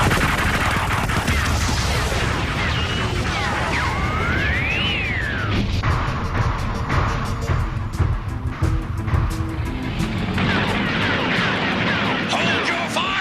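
Cartoon gunfire and laser blasts crackle in dense, loud bursts during a Transformers G1 battle scene, layered with engine roars, whooshing effects and a siren-like rising tone, with voices shouting over the din.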